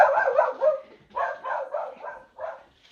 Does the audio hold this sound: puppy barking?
yes